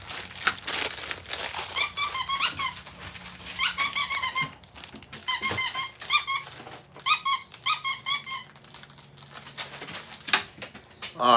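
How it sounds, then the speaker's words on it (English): Small squeaky dog toys squeak again and again in quick, high, pitched bursts, grouped in clusters over faint crinkling and chewing sounds. No one speaks. "the noises that these little squeaky things make"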